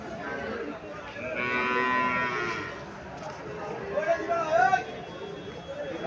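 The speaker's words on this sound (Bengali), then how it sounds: "এখানে আরো একটা বাছুর দেখা যাচ্ছে।" A calf moos at a busy Bangladeshi cattle market, two drawn-out calls rising above a steady murmur of crowd chatter and nearby voices.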